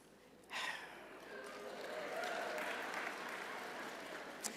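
Scattered clapping breaks out from an audience at a national financial aid conference general session, starting abruptly and holding as a moderate, diffuse patter in a large room.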